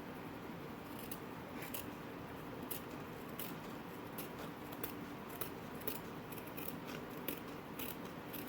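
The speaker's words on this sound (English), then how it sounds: "Next, I'm going to cut out my fabric." Scissors snip through fabric, cutting out banner pieces, in a series of quiet, evenly repeated cuts over a faint room hiss.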